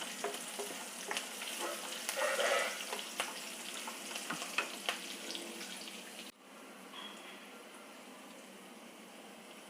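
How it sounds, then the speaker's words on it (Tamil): Green chillies frying in ghee over a slow flame, giving a steady soft sizzle with light crackles and occasional stirring scrapes, close and moderately quiet, with the sizzle dropping to a fainter hiss partway through. "இது அப்படியே ஸ்லோ ஃப்ளேமில் அப்படியே பொரிஞ்சு வரட்டும்."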